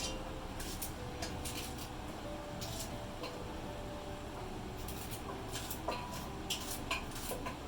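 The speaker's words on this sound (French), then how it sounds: "Je coupe mes 7 gombos comme ça." A knife slices through okra pods piece by piece, giving light, irregular clicks and taps against a cutting board over a low, steady room hum; no one speaks.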